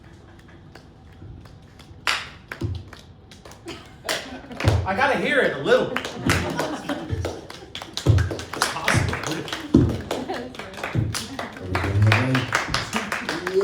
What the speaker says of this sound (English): clap as soft and distant as possible